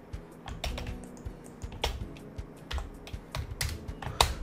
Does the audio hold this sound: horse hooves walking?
no